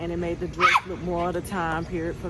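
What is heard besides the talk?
dog barking outside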